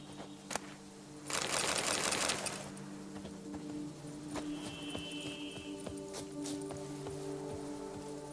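Horse hooves clip-clopping at a steady walking pace in The Witcher 3: Blood and Wine, a regular series of sharp knocks over ambient game music, with a louder burst of noise early on.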